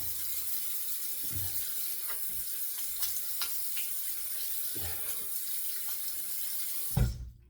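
Water runs steadily from a sink tap while an aluminium safety razor is rinsed, with soft splashes and a few clinks of the razor against the basin, ending in a louder splash.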